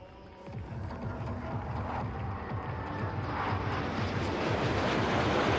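An airplane passes overhead at a public outdoor event, a steady broad engine roar that slowly swells louder across the clip, with no clear talking.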